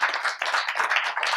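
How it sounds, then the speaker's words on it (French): Audience applause at a national day event for France Services centres, a short, brisk round of steady clapping from a roomful of hands, fairly close and clear. "On peut l'applaudir"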